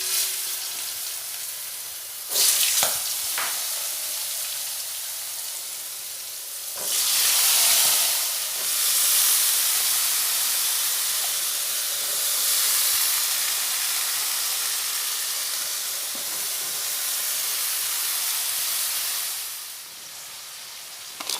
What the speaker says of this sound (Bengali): আলু, কুমড়ো, বেগুন আর পুঁই ডাঁটা নিয়েছি। এবার ওই গরম তেলে দিয়ে দেব